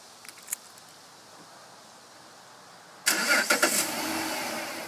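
A 2010 Dodge Charger SXT cranks over after a quiet stretch, its engine catching abruptly and settling into a steady, loud idle with no talking.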